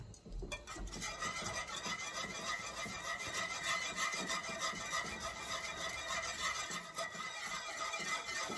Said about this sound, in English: I think I'm going to use a whisk.